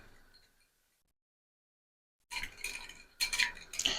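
A spoon stirs rice pudding made with milk, rice and starch in a pot, giving scraping, clinking bursts that start after a long silent pause and come in uneven strokes, close and fairly loud.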